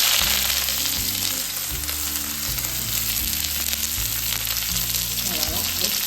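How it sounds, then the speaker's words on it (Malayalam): Onions frying steadily in hot oil with mustard seeds in a pan, a loud continuous sizzle heard close up for several seconds with soft stirring and no talk, while low background music plays. "നമുക്ക് നമ്മുടെ കടുകെല്ലാം പൊട്ടി കഴിഞ്ഞ് നമുക്ക് സവാള ഇടാം."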